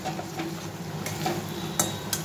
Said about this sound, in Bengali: আর এই মশলাটা একটু কষানো হয়ে যাক, কাঁচা গন্ধটা চলে গেলে